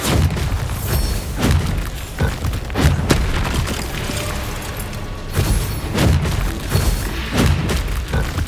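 Repeated Bombarda spell blasts in the video game Hogwarts Legacy. Heavy booming explosions land every second or so over a constant loud roar of combat.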